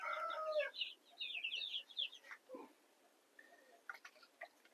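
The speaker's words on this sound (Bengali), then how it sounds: "আগে কোয়েল পাখিটা দিয়ে নেই" Small quail birds kept on a farm, chirping and calling in short bright bursts, with a few soft clicks and knocks in between, fairly quiet and close.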